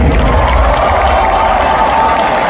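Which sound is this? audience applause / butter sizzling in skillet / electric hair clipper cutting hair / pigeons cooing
audience applause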